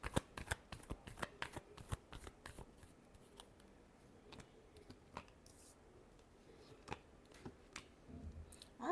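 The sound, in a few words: shuffling tarot cards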